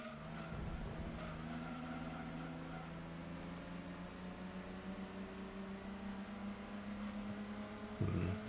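Engines in a racing video game drone steadily as cars, Celica GT4s among them, run through a race, a sustained droning whine at a low, even level throughout, with a brief louder burst near the end and no voices.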